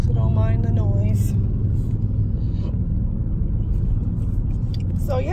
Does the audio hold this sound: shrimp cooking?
no